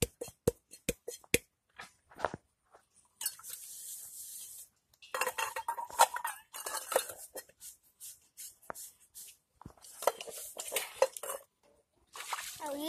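Metal pots, pans and utensils clatter and clink sharply while dishes are washed, starting with separate knocks and building into busy, close rattling bursts with short pauses between.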